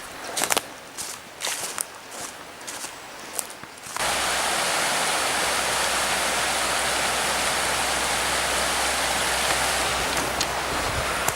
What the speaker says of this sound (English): passing above the old Denbigh Dam